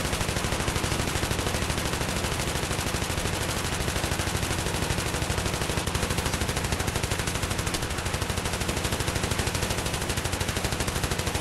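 Sustained automatic fire from an M249 SAW light machine gun in the shooter game Battlefield 3, a dense rapid rattle running loud and continuous through the whole stretch with no voices.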